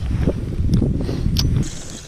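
Wind gusting across open water on a fishing trip, a loud, continuous low rumble of buffeting air against the microphone with a few faint higher splashes or rustles.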